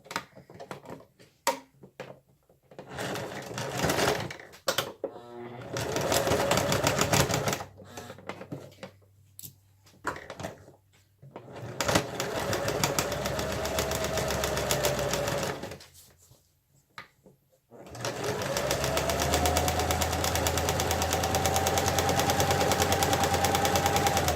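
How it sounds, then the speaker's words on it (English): A sewing machine stitches a zipper onto an art pouch in loud, close, rapid runs that start and stop, with short silent pauses and a long steady run near the end. "We're going to start sewing the other side of the zipper on."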